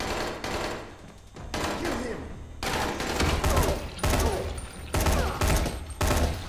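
Gunfire in the Dying Light video game, loud repeated bursts of shots in several clusters separated by short gaps, with a voice talking between them.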